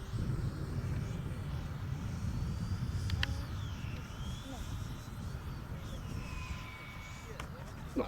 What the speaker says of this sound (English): Alan's 3D printed EDF.